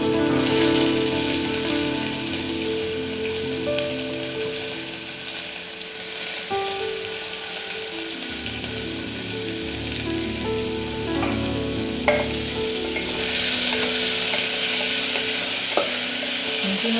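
Onions frying and being stirred in a pressure cooker for egg biryani, a continuous loud sizzle with occasional scraping clinks of a spoon, no voices.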